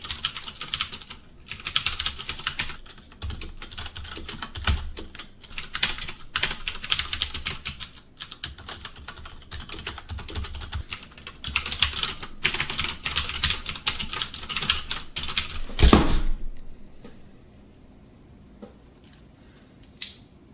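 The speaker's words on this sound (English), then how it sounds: "let's go and find out how this keyboard sounds like as I type" Fast, steady typing on a HyperX Alloy Core RGB membrane gaming keyboard, close and continuous, with clicky keystrokes filling most of the recording before trailing off into near silence.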